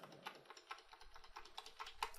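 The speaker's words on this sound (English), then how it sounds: "or I can use my right arrow on my keyboard." Keys on a computer keyboard are pressed in a quick series of light, close clicks and taps at an irregular rhythm, soft and with no voices.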